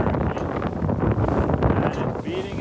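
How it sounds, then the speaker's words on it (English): Strong 5-6 Beaufort wind roars across the microphone aboard a sailboat beating upwind, a loud, gusty rush mixed with splashing water throughout. "We had way more wind and we were going straight into it."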